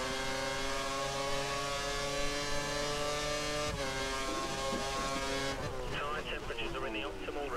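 A Formula 1 car in F1 2013 rolls slowly into the pits, its engine a steady, harmonically rich drone that holds an even pitch throughout, with a voice talking over it and a brief rustle near the end.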